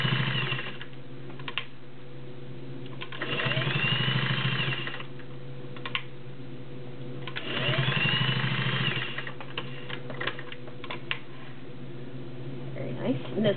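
A Singer Slant-O-Matic 404 straight stitch sewing machine runs through eight layers of cotton in two steady whirring bursts of a couple of seconds each, with quieter mechanical clicks and pauses between them.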